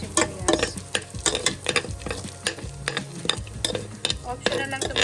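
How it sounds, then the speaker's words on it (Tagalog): Onions sauté in a pan while a utensil clatters and scrapes through them in quick, irregular strokes over a continuous close sizzle, for a vegetable dish with squash, long beans, pechay, eggplant and coconut milk. "So, maggisa na tayo ng mga sibuyas."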